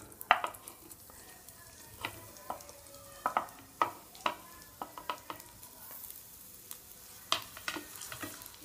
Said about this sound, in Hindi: जब हमारा घी थोड़ा गर्म हो जाए उसमें हम ऑनियन डालेंगे।